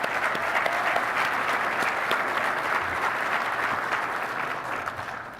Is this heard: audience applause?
yes